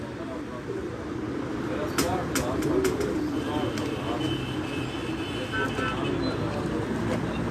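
Breeder pigeons coo on the rooftop of a pigeon keeper's house in Tarlai, Islamabad, their low calls rising softly under people talking nearby, with faint traffic hum in the background.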